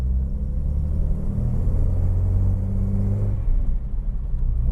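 A Nissan Fairlady Z GS30's engine pulls smoothly from just above idle while driving, a steady low rumble with gentle rising drone and no voices.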